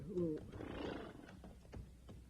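Horses in a western ranch scene take a brief rest: a short whinny-like call opens, followed by low rumbling movement and a few soft thuds, fairly quiet overall.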